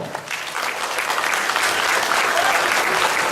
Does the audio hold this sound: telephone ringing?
no